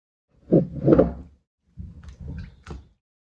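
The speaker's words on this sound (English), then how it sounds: "So this is just me rinsing out the excess buttermilk. Just knead it in there." Homemade salted butter churned from double cream, rinsed and kneaded by hand in a bowl of cold water, gives two short bursts of soft, wet, squelching thuds separated by a brief pause.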